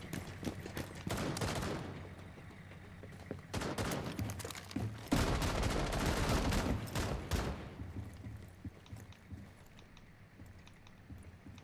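Bursts of rapid gunfire in a video game, loud and dense, arriving in several volleys separated by short lulls, with a continuous wash of noise underneath.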